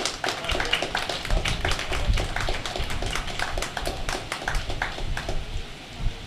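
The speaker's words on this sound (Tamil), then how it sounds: "உங்களுடைய உற்சாகமான கைத்தட்டலோட" An audience claps together at a Tamil gathering honouring an astrologer, a dense, steady patter of many hands fairly close by that thins out toward the end.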